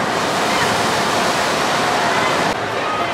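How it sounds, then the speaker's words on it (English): A water ride at the Enchanted Kingdom theme park in Manila makes a big splash after its larger drop, a loud sustained rush of spraying water and wind noise with a voice underneath. "let's see this splash. This is the bigger drop"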